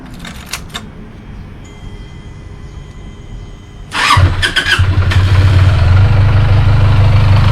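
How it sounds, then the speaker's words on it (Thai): A TNT300 motorcycle engine cranks and catches at about four seconds, then settles into a steady, loud idle with a low rumble that continues to the end. "โอเคเดี๋ยวเราสตาร์ทเครื่องอีกก่อน"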